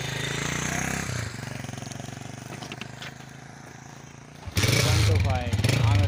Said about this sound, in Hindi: बाइक चला रहे